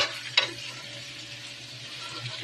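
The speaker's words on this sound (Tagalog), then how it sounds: "Haluin na lang po natin." Adobo is stirred in a sizzling pan, with a steady frying hiss and a single sharp scrape of the utensil near the start, heard close and alone.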